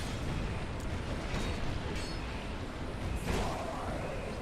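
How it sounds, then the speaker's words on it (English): Low, rumbling blast from a boss's explosion attack in Dark Souls II, a dense continuous roar that swells near the end and fills the whole clip, with no talk over it. "Gonna do some kind of explosion."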